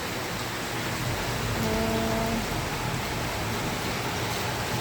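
Heavy rain falling just after a hailstorm in Lakatamia, Cyprus, a steady, dense hiss of drops on surfaces that stays loud and even throughout, with a brief vocal exclamation over it.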